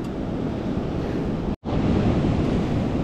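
Ocean surf washes steadily over a beach during razor clam digging, loud and close with wind buffeting the microphone, broken by one brief dropout midway.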